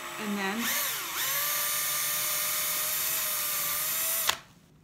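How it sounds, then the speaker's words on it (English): A power drill boring a hole in an ornamental gourd, spinning up slowly at first, then holding a steady, loud whine before cutting off abruptly near the end. "go slow to start so it doesn't walk, the drill bit doesn't walk all over the gourd"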